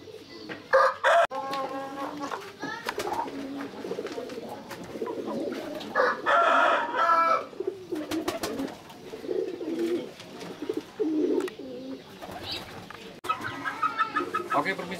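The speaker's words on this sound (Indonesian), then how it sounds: "Dan ini anakan ayam yang usia 5 bulan." Five-month-old young fighting chickens crowing and clucking in a flock, with repeated loud bursts of rough crowing and rapid clucks over a busy background of other birds.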